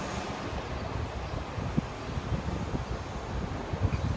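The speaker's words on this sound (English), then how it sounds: "It's getting a little windy." Steady wind blows across an open outdoor space, a constant broadband rush buffeting the microphone with small gusts and no talking.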